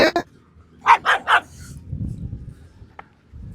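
Street dogs barking while being fed chicken, a quick burst at the start and then three loud close barks in a row, followed by quieter shuffling and a faint yip.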